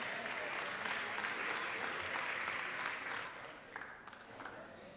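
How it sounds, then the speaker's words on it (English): Lawmakers and guests in a legislative chamber applaud boaters seated in the gallery, a dense, even round of clapping that carries for a few seconds before thinning out and fading to scattered claps. "Give them a big round of applause again."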